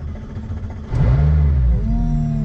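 McLaren Senna LM supercar engine starting: a starter whir, then the engine catches and settles into a loud, steady low idle.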